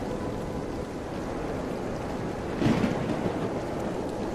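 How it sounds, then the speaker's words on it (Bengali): Heavy rain pours steadily at night on a treetop platform of a banyan tree during a flood, wind rushing through it, with a brief rumbling swell about two-thirds through. "বৃষ্টির ঝমঝম শব্দ আর বাতাসের শোঁ শোঁ আওয়াজ এক ভুতুড়ে পরিবেশ তৈরি করেছে"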